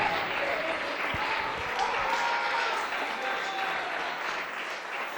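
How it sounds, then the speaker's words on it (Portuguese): A church congregation applauds together in sustained, steady clapping that fills the space, loud and dense throughout, with a few shouts mixed into the crowd noise. "Aplauda mais forte!"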